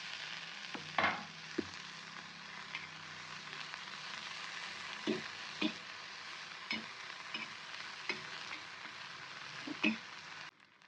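Tomatoes frying in a pan for an egg tava fry, a soft steady sizzle with scattered stirring clicks and scrapes of a spoon against the pan, no talking.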